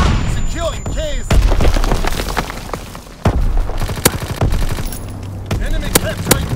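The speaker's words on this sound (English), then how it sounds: "Fighter pilot inbound, strafing the target." A fighter aircraft makes a strafing run in a Call of Duty WWII match, firing rapid bursts of gunfire with sharp booms and impacts, loud and close, mixed with engine sweeps and game voice callouts.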